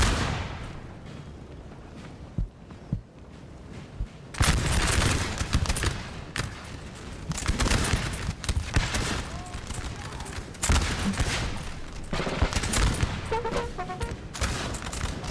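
Artillery booms and massed musket volleys from a Napoleonic battle in Napoleon: Total War, quieter at first, then a dense, continuous rattle of fusillades and cannon blasts from about four seconds on, with occasional talk underneath.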